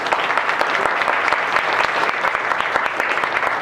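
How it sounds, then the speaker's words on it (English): Audience at a panel discussion applauding the moderator, a steady dense wash of many hands clapping close by, unbroken and fairly loud throughout. "Give him a round of applause"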